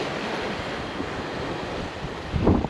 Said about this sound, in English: Sorry, it's kind of windy.